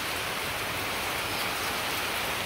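Steady heavy rain with wind hisses evenly and loudly throughout, a dense continuous wash of falling water with no voices.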